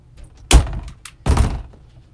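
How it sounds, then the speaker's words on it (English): Staple gun firing into fabric stretched over a placemat for a farmhouse sign, giving two loud, sharp thunks about three-quarters of a second apart, with a small click between them in an otherwise quiet room. "You have to take your staple gun and push it in the direction you want."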